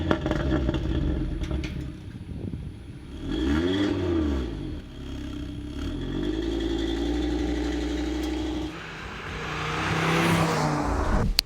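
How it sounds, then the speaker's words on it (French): An Audi RS3 compact sedan's 400-horsepower transverse engine runs alone and close, idling with a couple of throttle blips that swell and fall back. "Le petit moteur Audi qui vient nous développer 400 chevaux"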